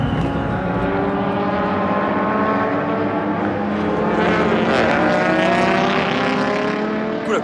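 Race cars roaring off the start of an endurance race at Fuji Speedway, a loud, dense wash of many engines with rising and overlapping pitches from several passing cars, steady and continuous throughout.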